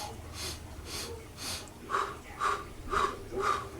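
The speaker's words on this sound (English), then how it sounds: "while you're walking, you practice this simple breathing technique" Quick, rhythmic breaths drawn sharply through the nose during a walking breathing exercise, about eight short sniff-like pulses in steady succession, close and moderately soft with no talking.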